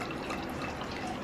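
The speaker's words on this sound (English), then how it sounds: "I'm gonna pour a glass of wine." Wine pours into a glass, a brief soft gurgling trickle of liquid heard close and fairly quiet, with no talking.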